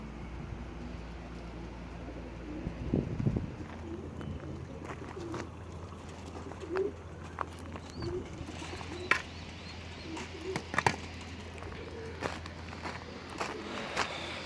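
Pet pigeons coo softly in a loft, with low murmuring calls and scattered clicks and shuffles of feet under a steady background hum.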